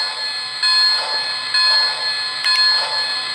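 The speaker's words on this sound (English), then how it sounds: "Here's the bell." A small electronic bell on a Lionel HO Polar Express Berkshire model steam locomotive rings in repeated bursts, each strike followed by a steady ringing tone, fairly loud and close with no talking.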